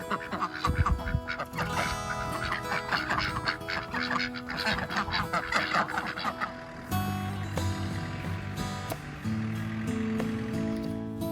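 Ducks quack and honk around duck houses on a farm, a busy overlapping chorus of calls close by, continuing throughout with a person occasionally talking over it.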